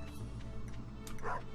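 A farm dog in the Stardew Valley video game gives a quick, light bark, heard close over a steady game music bed.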